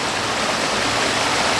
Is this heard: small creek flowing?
yes